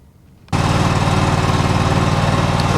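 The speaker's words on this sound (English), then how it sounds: "we have the tractor running. It takes two hands to start a Kawasaki engine." After half a second of near quiet, the Kawasaki engine of a John Deere X530 garden tractor starts abruptly and runs loud and steady with a close, rapid chugging throb.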